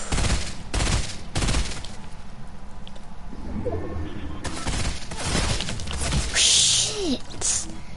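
Video game gunfire rattles in sharp bursts, several loud volleys at the start and again later, with lighter chirping sounds in between and no speech.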